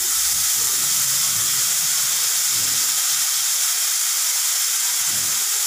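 Sesame fritters fry in leftover fish-frying oil in a wok, giving a close, even, continuous sizzling hiss with no talking.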